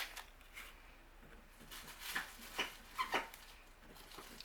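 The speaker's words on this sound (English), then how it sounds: "my dog in the background chewing at his toy" A dog chews on a toy indoors, faint scattered gnawing, clicks and squeaks rising into a few louder bursts toward the end, with no talking.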